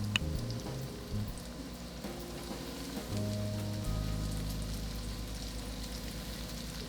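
Chicken tenders fry in a shallow layer of oil in a pan, giving a steady, moderately quiet sizzle and crackle with no talking, while a low hum from the kitchen runs underneath.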